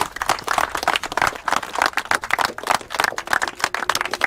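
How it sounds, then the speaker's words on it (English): Close, loud round of applause for fighters from a small audience, sharp individual claps tumbling in a fast irregular rhythm that holds steady for several seconds with no talking. "let's definitely give them a round of applause for that"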